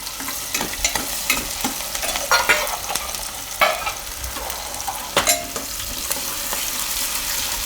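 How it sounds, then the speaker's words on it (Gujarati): Chopped onions and green chilies fry in a pan for a Gujarati rice dish. A steady close sizzle runs under repeated scraping and clacking stirs of a spoon against the pan. "થોડીક વાર આમાં પકાવી લેવાનું ડુંગળીને, 1/2 મિનિટ માટે."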